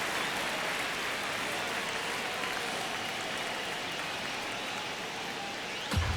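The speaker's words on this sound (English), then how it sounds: "Crowd locked in right now." Stadium crowd noise from the MLB The Show baseball video game, ninth inning of a one-run game between Cincinnati and the New York Mets: a steady, dense wash of crowd roar throughout, with a brief sharper burst near the end.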